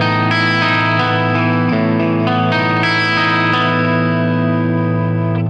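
A Music Man Y2D electric guitar with Seymour Duncan P-Rails pickups set to parallel humbucker mode plays sustained, distorted chords with chorus and reverb, loud and close.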